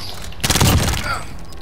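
A loud burst of video game gunfire during a multiplayer shooter match, a short dense volley that rings out and fades into background game noise.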